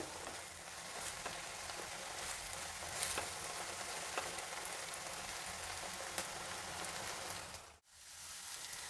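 Steady, soft sizzling of fenugreek greens and onion frying in a pan, continuous crackle with a brief dip near the end.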